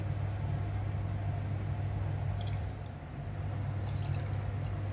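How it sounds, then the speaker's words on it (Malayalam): Water is poured over pork pieces in a pressure cooker, giving a steady, even flow with a low hum underneath, dipping briefly about midway before resuming. "നമുക്ക് അതിനെ മുങ്ങിക്കിടക്കുന്ന രീതിയിൽ വെള്ളം ഒഴിക്കാം."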